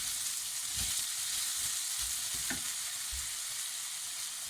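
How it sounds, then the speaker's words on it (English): Potato samosa filling sizzles steadily in a pan while a utensil scrapes and stirs it in a few distinct strokes, close and without talk. "give it a good stir. So wait for these potatoes to cook out."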